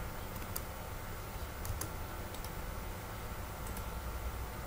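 Computer keyboard typing during HTML code editing and copy-pasting, a quiet run of light key clicks over a steady low hum, with a few brief clusters of taps spread across the clip.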